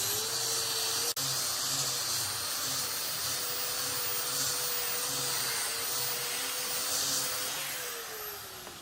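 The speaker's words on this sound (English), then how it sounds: "sander is also run along the curved perimeter, erasing the aggressive tool marks left by the bandsaw" A power sander whines steadily and loudly while smoothing the curved edge of a pine pallet tabletop, a constant high hiss with a droning tone that shifts slightly and trails off at the end.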